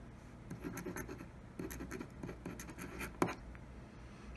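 A left-handed writer signs her name with a smooth pen on paper, giving faint, close scratchy strokes in irregular bursts with brief pauses.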